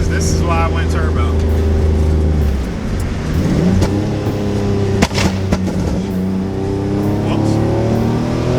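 A 700hp turbocharged G35 revs loudly and close, engine harmonics climbing and falling through several throttle blips, with a sharp pop around the middle and people talking over it.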